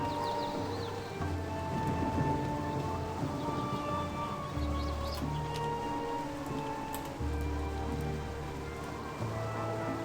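Steady rain from Sword Coast weather in a fantasy video game, a constant wash of drops under low ambient game tones and music, with no clear thunder crack standing out.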